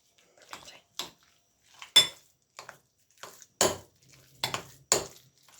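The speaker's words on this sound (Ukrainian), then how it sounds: "Все ретельно перемішуємо" A utensil scrapes and clinks against a bowl in irregular strokes while dough of egg, salt, sugar and flour is stirred, each stroke separated by brief quiet moments.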